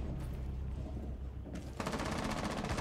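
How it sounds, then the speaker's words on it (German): Automatic gunfire from the video game Rainbow Six Siege starts with a few scattered shots, then bursts into a rapid, loud, evenly paced stream of rounds near the end. "Hier wird scharf geschossen."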